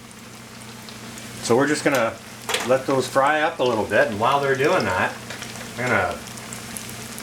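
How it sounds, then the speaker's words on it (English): Fish fillets frying in hot oil, a steady faint sizzle running beneath a voice that talks through most of it. "So we're just going to let those fry up a little bit"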